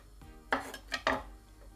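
Knife slicing döner meat thin on a board, three close, sharp cuts and knocks in quick succession against a quiet background.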